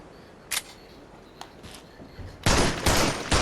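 Pistol gunfire in the VR shooter Crossfire: Sierra Squad, a couple of sharp isolated shots followed by a rapid string of loud reports near the end, close and without talk.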